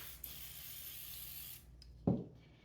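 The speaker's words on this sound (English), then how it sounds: "I'm just going to spray the insides of these shells just a little bit so they won't dry out." A spray bottle mists oil into hollowed potato skin shells, a soft steady hiss lasting over a second, followed by a short thump.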